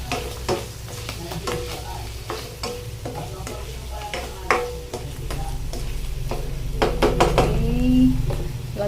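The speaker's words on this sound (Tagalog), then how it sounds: "Halo natin yung itlog natin." Scrambled egg stirred into stir-fried pechay in a pan, a continuous sizzle under repeated spatula scrapes and clinks against the metal, growing slightly louder toward the end.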